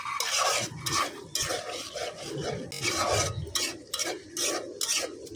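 Masala with tomato being stirred and fried in a pan while cooking shapla, with close, rhythmic metal scraping and rubbing strokes over a soft sizzle.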